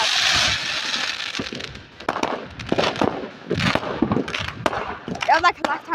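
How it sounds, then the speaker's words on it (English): Fireworks burst and crackle repeatedly in quick, uneven succession, loud and close, with voices talking and reacting underneath. "How much fireworks do they have?"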